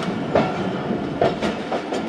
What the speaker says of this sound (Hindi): दस बजकर 57 पर दोस्तों टंडो आदम रेलवे स्टेशन पास कर रही है ट्रेन